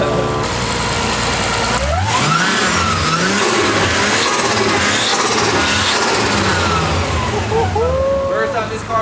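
A freshly swapped RB26DETT engine in an R34 Skyline runs at its first start, revving up and down in loud swelling pulls over a rough idle, close by, with voices cheering over it.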